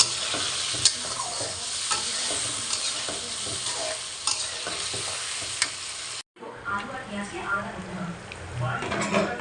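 Potatoes and eggplant frying with a little cumin powder in a pan, a steady close sizzle with scraping stirs throughout, briefly cut off before resuming with the clatter of a spatula.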